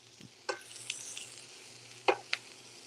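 Pork chops brown quietly in a pan, a faint low sizzle with a few soft scrapes and taps of stirring scattered through, no voices.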